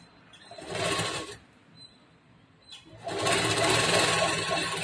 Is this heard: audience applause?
no